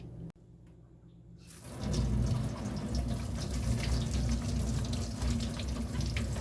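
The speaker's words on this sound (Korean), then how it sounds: "양파 반쪽을 껍질을 벗겨 흐르는 물에 깨끗하게 씻어 물기를 제거하고" Tap water starts running after a brief quiet moment as half a peeled onion is rinsed under it. The water makes a steady, close splashing rush into the sink.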